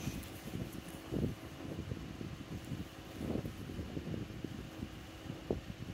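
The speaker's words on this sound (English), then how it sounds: "It's pretty windy out here" Steady outdoor wind rumbles and buffets low throughout, with gusty bursts of blustery noise swelling and fading over several seconds.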